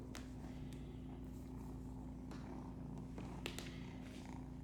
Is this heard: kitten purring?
yes